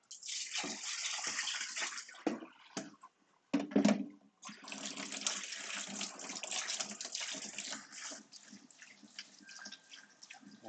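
Tap water streams and splashes while rinsing a cyanotype print, a loud continuous gush broken by a few short pauses and shifts as the flow moves across the paper.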